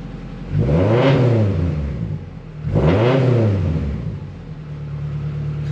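A Honda H22 engine revved twice toward 4000 RPM, each loud rising-and-falling blip sweeping up then settling back to a steady idle, heard close with no talk.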